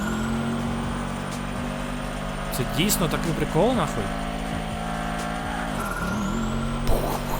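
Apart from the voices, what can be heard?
car engine exhaust in video game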